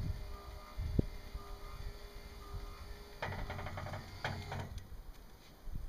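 A single-axis tilted solar tracker built on steel pipe creeps as it moves, giving a quiet mechanical whir with a burst of faint clicks and ticks partway through.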